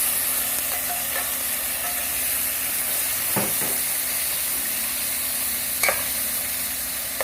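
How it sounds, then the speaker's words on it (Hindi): Tomatoes frying in a pan for homemade macaroni, giving a steady soft sizzle with occasional stirring clinks and scrapes against the pan. "हम थोड़ी देर इस तरह भूनते रहेंगे"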